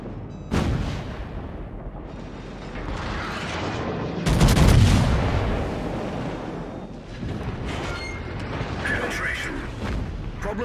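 Naval guns from a World of Warships battle with a Nelson boom in heavy, repeated salvos with rumbling blasts and crackling impacts, loud and close, while voices speak between shots.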